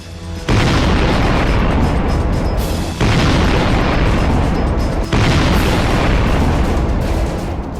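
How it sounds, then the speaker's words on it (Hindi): Three massive booming blasts from an underwater explosion at sea off the coast of Florida, each a sudden roaring wall of sound that rumbles on for seconds, very loud and close, with no voices. "एक धमाका और देखते ही देखते विशाल समंदर थर्रा उठा।"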